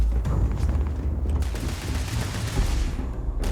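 Rapid gunfire in the space game Starfield, a dense loud stream of overlapping shots and bursts with low rumbling booms underneath, continuous across the stretch.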